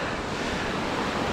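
Surf and wind at Meadfoot Beach in Torquay make a steady broadband wash with no breaks, close and fairly loud, with no voices.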